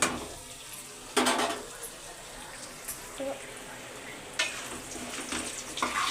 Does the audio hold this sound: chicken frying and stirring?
yes